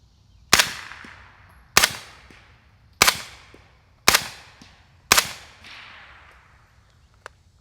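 Five suppressed gunshots from 147 grain subsonic rounds through a Rex Silentium MG7 suppressor, each a sharp, fairly loud crack with a short decaying tail, spaced about a second apart, followed by a faint click.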